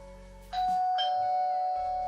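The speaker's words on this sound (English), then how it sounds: "Went the doorbell" A doorbell rings with two clear bright tones, a ding-dong, each note ringing on and slowly fading, loud and close with no voices.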